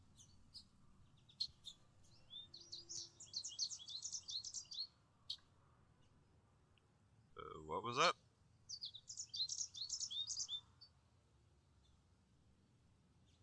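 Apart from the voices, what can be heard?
birds chirping in a video game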